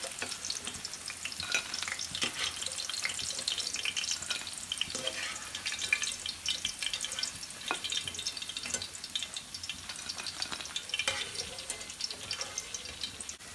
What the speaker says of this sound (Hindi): ये पकोड़े हमारे फ्राई हो रहे हैं।